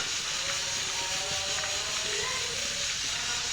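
Halved green chillies fry in hot oil for mutton biryani, giving a steady, loud, broadband hiss and crackle that holds unbroken throughout.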